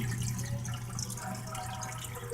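A Little Giant Water Wizard pump, rated 0.6 or 1/6 horsepower, sprays water in a steady, loud rushing hiss over a low constant hum, with no voices.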